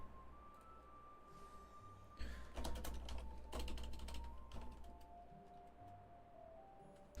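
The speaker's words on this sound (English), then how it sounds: "You can hear my keyboard." A computer keyboard is typed on in quick clustered keystrokes, loudest in a burst mid-way, nearby and fairly faint, over a steady low hum and game background tones.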